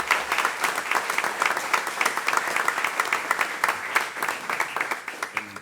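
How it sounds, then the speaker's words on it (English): An audience at a city council meeting applauds, many hands clapping together in a full, lively burst that carries on steadily for several seconds with no voices over it. "Let's give the parents a round of applause."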